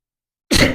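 A single sharp sneeze bursts out after a stretch of silence, loud and close, one explosive breath during a sneezing fit.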